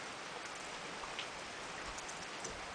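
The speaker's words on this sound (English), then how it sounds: "It's still cold, wet, and rainy out here." Steady rain falls outdoors on a cold, wet day, an even soft patter with scattered drops and no voices.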